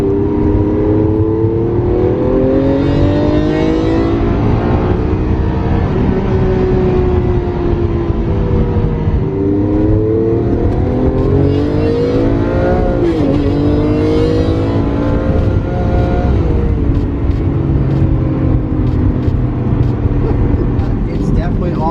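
A Lamborghini Aventador's engine pulls hard while driving at speed, a loud sustained roar with rising and falling pitch sweeps as it accelerates, running continuously under people talking.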